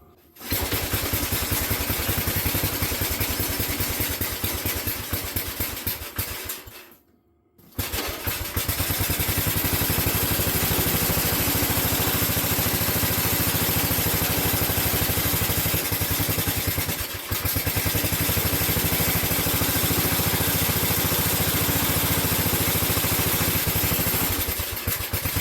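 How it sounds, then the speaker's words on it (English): Wheel Horse 607 garden tractor engine running steadily, a loud, close, continuous small-engine drone with a brief drop near the start before it carries on evenly. "Now I know that the engine runs."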